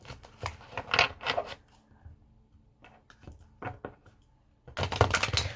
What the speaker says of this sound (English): I'm getting a good shuffle on.